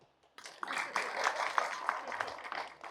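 An audience bursts into applause after a brief quiet start, a steady wash of clapping that holds at moderate volume through the rest of the moment.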